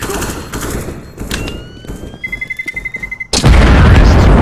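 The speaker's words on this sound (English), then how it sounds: "It is going to explode." Bomb in the CS:GO video game beeping faster and faster in a rising series of short tones, then detonating in a loud, sudden blast that roars on at the end, with gunfire and game sounds before it.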